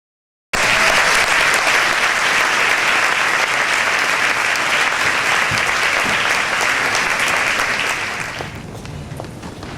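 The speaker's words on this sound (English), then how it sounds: "Yes, another round of applause." Dense, steady audience applause at a Texas women's event fills the room loudly for about eight seconds, then thins and fades slightly toward the end.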